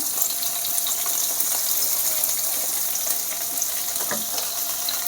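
Onions sizzle and crackle steadily in hot oil in a kadai, a dense, bright frying hiss that stays loud and even throughout.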